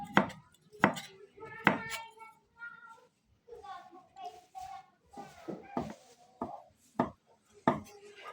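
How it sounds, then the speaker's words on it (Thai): Bamboo shoots chopped for soup, sharp knife strikes coming in irregular bursts, loud and close, with a cat meowing and voices in between. "ซอยหน่อไม้พี่น้องสิมาเฮ็ดซุป"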